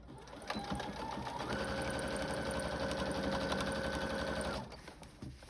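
A sewing machine stitches a half-inch seam along the edge of a fabric book sleeve, its motor whirring in a steady, continuous run for about three seconds before stopping, with light handling noise before and after.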